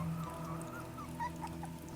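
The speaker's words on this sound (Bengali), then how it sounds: "বাগানের ভেতর থেকে ভেসে আসছে একটা কুকুরের করুণ কান্না।" A dog whimpers pitifully from inside a dark palm grove on a rainy night, thin wavering cries rising and falling over a low steady background, ending in a brief sharper sound.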